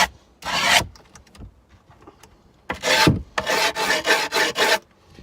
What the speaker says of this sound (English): I get this screwdriver like I showed earlier, and you just run it along the sides.